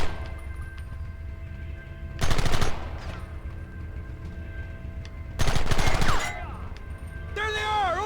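Two loud bursts of rapid gunfire in the Red Dead Redemption video game, each roughly a second long and separated by a calm stretch. A tonal game sound rises near the end, and some speech is present.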